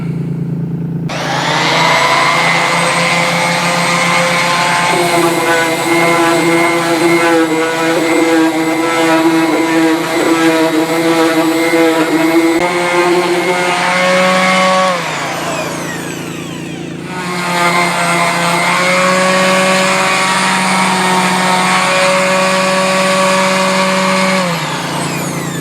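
A power sander works over narrowboat paint with a fine P400 sanding sheet, a loud continuous whine close by that drops briefly near the middle and then resumes, with no voices.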